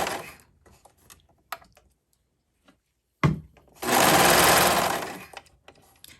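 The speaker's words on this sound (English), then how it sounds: "I'm just going to serge all the way down the side" A serger stitches down the side of bridesmaid dress fabric, starting and stopping in short bursts before a steady loud whir of about a second and a half, close up with no talking.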